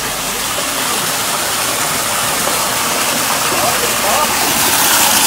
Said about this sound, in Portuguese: Liguei a cascata.